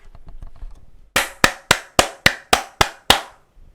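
Eight loud, evenly spaced claps ring out in a steady rhythm after some faint murmuring, each sharp and close.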